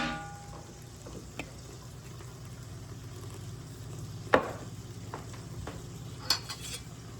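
Ramps fry in bacon grease in a skillet, giving a steady low sizzle with a few scraping stirs and light clinks; no voices.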